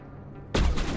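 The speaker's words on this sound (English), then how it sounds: "Why are we shooting already?" Abrupt burst of loud gunfire erupts after a quiet ambient lull in the video game Mass Effect Legendary Edition, a sustained close volley continuing to the end.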